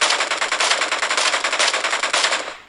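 Sustained rapid automatic gunfire from PUBG Mobile, a loud, continuous burst of evenly spaced shots with no pauses that tails off only at the very end.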